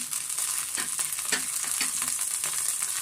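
Vegetables such as peas, beans, capsicum, carrot and spring onion are stir-fried in a pan for vegetable paddu, making a steady soft hiss broken by scattered light clicks of stirring, with no talking.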